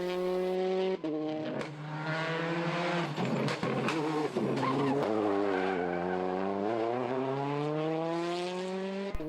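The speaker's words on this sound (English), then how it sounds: "Paolo Andrucci in the 208 T16, that unique raspy sound of the Peugeot as it comes through the stages" Peugeot 208 T16 rally car on a gravel rally stage in Rome, its raspy engine revving hard and rising and falling through gear changes as it passes close by, loud and alone.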